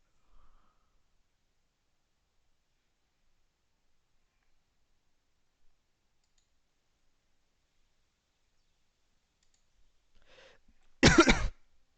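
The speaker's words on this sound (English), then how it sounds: "Excuse me, I got a cough and whatnot." A single short, sharp cough rings out near the end after a long, almost silent stretch.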